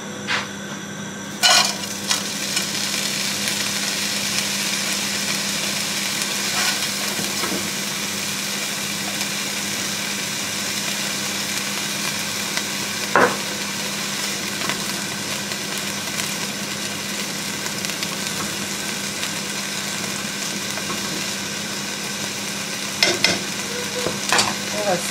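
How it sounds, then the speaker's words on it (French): Chopped onions frying steadily in a heated non-stick pan, a continuous close sizzle with a low hum beneath and a few scraping stirs. "je vais faire revenir mes oignons dans ma poêle"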